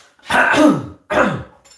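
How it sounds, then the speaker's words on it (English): Two harsh coughs close to the microphone, a longer rough burst followed by a shorter one, with a brief pause between. "God, coughing."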